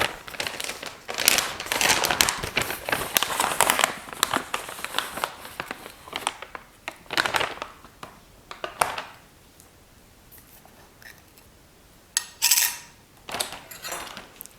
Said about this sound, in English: And then I'm just going to slice this banana on top of it.